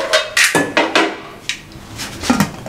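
Metal lid clanks onto a cooking pot of haleem, with several sharp, close clattering knocks and scrapes in quick succession, then a softer settling clink.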